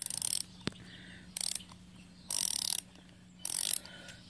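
Flexible ratcheting wrench from a 12-piece set clicking in bursts, four short, crisp ratchet runs with quiet pauses between, close up and with no speech.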